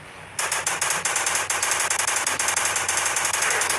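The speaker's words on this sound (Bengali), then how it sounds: "তো একে আগে মেশিন গান দিয়ে শেষ করে দিয়ে দিব" Rapid machine gun fire in the Indian Bike Driving 3D video game, fired at attacking dinosaurs, a loud sustained burst of evenly spaced rattling shots starting abruptly and running without pause.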